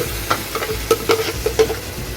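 Chunky mango pieces coated in ground fish masala fry in a pan, a brief burst of soft sizzling with several quick stirring scrapes in a loose rhythm, close and fairly loud.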